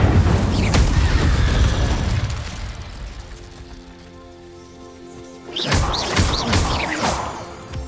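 Incendio fire spell cast in Hogwarts Legacy, a loud booming burst that rumbles and fades into a quieter lull before a second crackling eruption flares up, with no voices.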